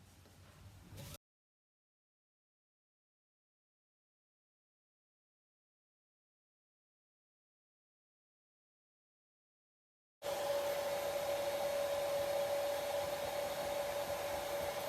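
A hair dryer drying paint on a sign: a short burst of blowing, a long silent gap, then the dryer running loud and steady with a constant motor whine.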